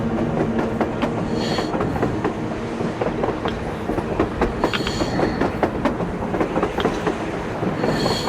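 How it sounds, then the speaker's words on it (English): A train rumbles past on the surface in the game Metro Exodus, with a continuous loud roar and rhythmic clickety-clack of wheels, with occasional metallic squeals. "A train! A damn train on the surface!"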